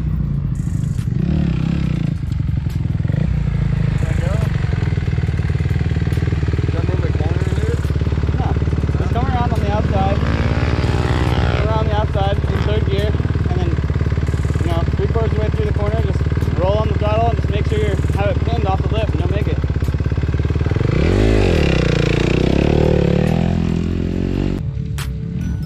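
A motorcycle on a race track during a track day, its engine droning steadily and loud, climbing through revs with a clear rise near the end, while people talk over it.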